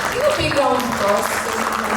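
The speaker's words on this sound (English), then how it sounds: "Give a big round of applause" An audience at an Indo-global business entrepreneurship conclave applauds an award recipient. Clapping runs continuously beneath a voice and tonal background sound, moderately loud and close.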